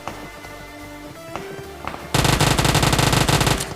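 Rapid automatic gunfire from a battle royale video game erupts loudly after a quieter stretch of game ambience, a dense sustained burst of shots running to the end without pause.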